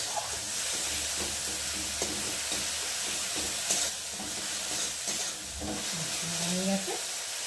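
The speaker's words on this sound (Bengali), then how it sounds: "টমেটোটা গুলেও গেছে, দেখো নাড়তে নাড়তে" Tomatoes sizzle and break down in a frying pan while being stirred, for a mustard-and-parshe-fish dish. A constant close hiss runs throughout with repeated scraping strokes, and a voice briefly speaks near the end.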